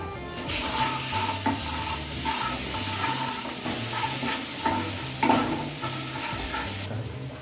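Garlic paste frying with browned onions in a pan, a steady broad sizzle with scraping stirs and a few clinks, continuous and close with no talking.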